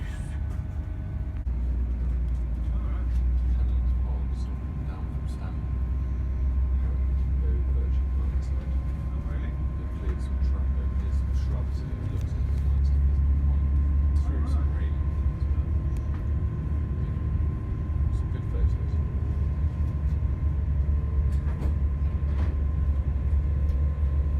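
A steady low rumble inside a moving Great Western Railway train cabin bound for London Paddington, with faint rattles and clicks over a constant drone.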